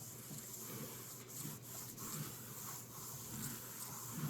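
A microfiber cloth wiping the leather strap of a wrestling belt, giving a soft, continuous close rubbing swish at low volume with slight rhythmic surges.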